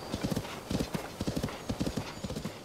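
Horse hooves clip-clopping in Zelda: Tears of the Kingdom, a brisk run of clear, rhythmic hoofbeats in quick groups of knocks, close and fairly loud with no talking.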